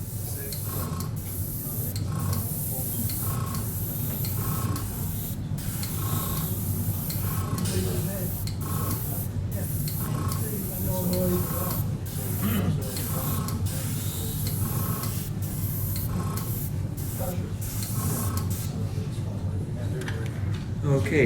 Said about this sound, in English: You just spray it on. Gradually build it up to the desired color you want.